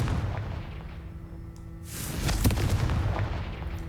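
A Confringo blasting curse from Hogwarts Legacy goes off as a single broadband burst about halfway through, followed by crackling debris over a steady low background rumble.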